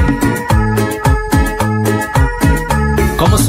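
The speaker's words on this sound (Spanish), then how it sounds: "Esta es la cumbia para gozarse." A band plays upbeat Christian cumbia, with a loud, driving bass and percussion groove repeating in a steady dance rhythm and brighter instruments layered on top.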